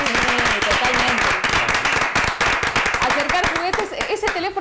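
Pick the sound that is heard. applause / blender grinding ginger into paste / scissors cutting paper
applause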